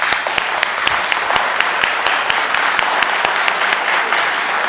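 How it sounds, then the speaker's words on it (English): An audience applauds Horizon homeowners at a city council meeting, a loud sustained patter of many hands clapping from start to finish. "I would like to give them a round of applause"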